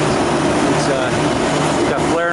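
A refrigeration unit with a hermetic compressor runs steadily while being charged with refrigerant, a constant close mechanical hum with a faint whine that continues alone throughout.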